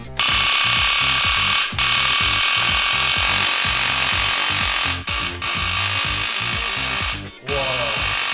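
Pichu's 500,000-volt electric attack in a Pokémon game sounds as a loud, continuous buzzing crackle with a steady pulsing beneath it, broken by a few short gaps.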